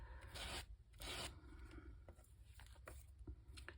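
Sandpaper rasps over the seams of worn overall fabric to distress them, coming in two strong rubbing strokes followed by lighter, scattered scratches, close and fairly quiet.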